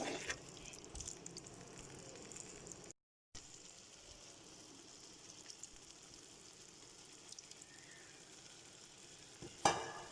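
Curd being stirred into potatoes frying in a pan for dum aloo, a steady soft sizzle with scraping stir strokes, a brief gap partway, then a louder clatter near the end.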